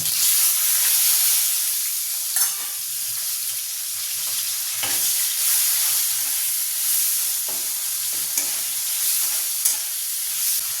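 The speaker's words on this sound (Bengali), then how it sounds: "একটা তেজপাতা দিয়ে দেবো, দিয়ে আমি এর মধ্যে কুচিয়ে রাখা এই পেঁয়াজটা দিয়ে দেবো।" Chopped onion and a bay leaf frying in oil in a pan, a loud, steady hissing sizzle with occasional stirring scrapes and soft clatters, with no talking.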